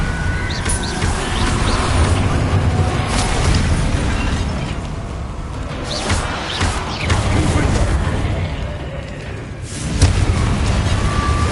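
Spells in Hogwarts Legacy go off one after another, a blasting fire spell among them, creating bursts and booming explosions with crackling pops at irregular intervals amid ongoing game noise. A voice can be heard underneath.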